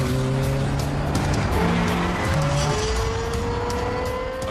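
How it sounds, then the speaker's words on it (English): A Lexus LFA with its V10 engine revs hard, a loud sustained high-pitched howl with rising and falling engine tones and no pauses. "Highest revving V10 engine in a production car."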